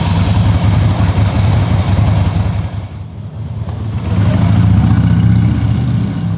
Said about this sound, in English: And I love how she rides her motorcycle to work.